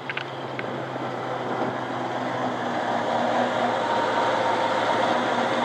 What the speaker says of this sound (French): un moteur qui tourne très bien, un très beau ralenti, assez bas, doux